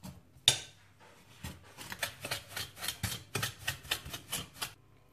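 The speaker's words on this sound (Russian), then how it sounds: "Перетирая маргарин с сахаром, сначала столовой ложкой" A tablespoon scrapes and rubs repeatedly against a bowl, creaming margarine with sugar for kefir muffins, a steady series of short gritty strokes, close up with no talking.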